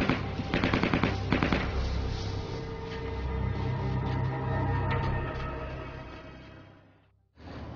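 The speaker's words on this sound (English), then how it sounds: "three of them pulled out 9mm Uzis and started shooting" Rapid bursts of 9mm Uzi submachine gun fire outside a restaurant in Atlanta, dense rattling volleys that carry on steadily and then cut off abruptly near the end.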